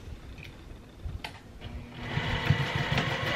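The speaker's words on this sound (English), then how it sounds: "we're gonna sew away again" Sewing machine stitching fabric for a bowl cozy, starting quietly and settling into a steady, fast mechanical whir of stitches that runs on alone to the end.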